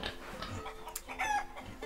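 Chickens cluck close by in a few short, throaty calls, with one higher squawk breaking through, and no one speaking.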